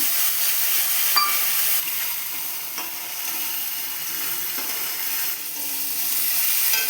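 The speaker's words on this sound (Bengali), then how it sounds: "দিয়ে দিব আমি একটা শুকনো লঙ্কা, দিয়ে দিব একটু কালো জিরে, দিয়ে দিব লঙ্কা জিরা ফোটানো" Dried red chilli and nigella seeds sizzle steadily in hot oil, a continuous bright frying hiss with a few faint clinks of a utensil stirring, close and fairly loud throughout.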